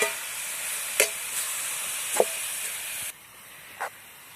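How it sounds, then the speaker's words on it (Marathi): Grated carrots stirred in hot ghee in a pan, a steady hiss and sizzle with a few scraping stirs that quiets sharply partway through, close up and without talk. "आता तुपामध्येच हलवून घ्यायचे आहे चांगले"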